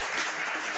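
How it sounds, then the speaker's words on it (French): National Front party supporters applaud at a political gathering, a short, moderately distant wash of steady clapping lasting under a second. "Un franc-maçon applaudi par des frontistes"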